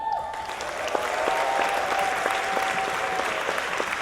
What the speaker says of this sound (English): Let's do a cheer for Newark